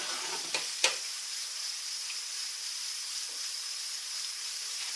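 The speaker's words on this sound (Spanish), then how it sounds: "dejaremos que se frían bien para acompañar nuestro guisado" Potatoes frying in oil for a beef and artichoke stew, a steady close sizzle and hiss with a couple of faint knocks near the start.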